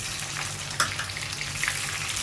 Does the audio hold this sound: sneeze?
no